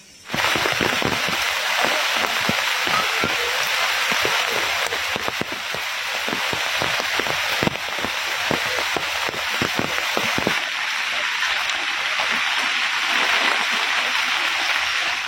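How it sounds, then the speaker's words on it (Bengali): Heavy rain pours down on a village amid strong wind, a dense, steady roar of falling water that fills the whole clip with scattered sharper patters and splashes close by. "বৃষ্টি পড়ছে, চলো।"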